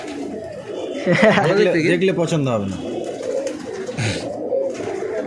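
A pigeon coos in a domestic loft among other pigeons, its throaty rolling calls close and fairly loud while someone talks over them throughout.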